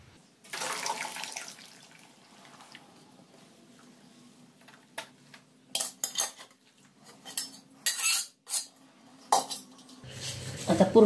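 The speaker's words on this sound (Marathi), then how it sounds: "आणि आता मी सगळं असं ओतून घेते." Amla and mehndi mixture poured from a metal vessel, a soft sustained trickle followed by intermittent clinks and scrapes of utensils, fairly quiet and close.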